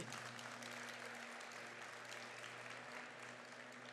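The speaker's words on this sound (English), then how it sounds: "let's give a warm round of applause for the Comic-Con Museum and the staff here." An audience at a Comic-Con talk about Batman applauds steadily, a dense wash of clapping that keeps going at an even level for the whole stretch.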